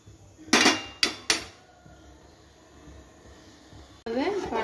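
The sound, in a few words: stirring payesh rice pudding in a pot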